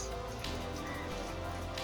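Heavy rain, with hail reported, falls in a village storm, a dense steady patter and hiss on surfaces, loud and close throughout the short stretch.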